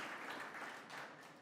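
An audience claps steadily at a 2020 Hall of Fame induction ceremony, a dense, even wash of applause from many hands that holds for the whole stretch and eases slightly toward the end.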